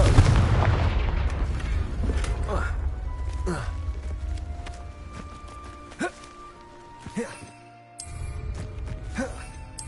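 Confringo fire-spell blasts in the video game Hogwarts Legacy, a heavy booming explosion up front that rumbles away, followed by several sharper thuds and whooshes over a dense game soundscape.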